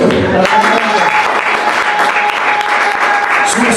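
A church congregation applauding and cheering to acclaim the Lord during a sermon, with loud, dense clapping filling the room from start to finish and voices mixed into the ovation.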